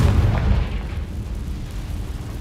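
Confringo fire spell explosion in the video game Hogwarts Legacy, a deep booming blast up front that quickly fades into a low rumbling tail.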